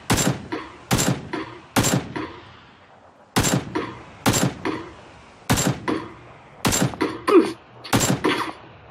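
Gunfire in PlayerUnknown's Battlegrounds rings out as sharp, loud single shots spaced about a second apart, with a few quick doubled shots and echoing tails between them.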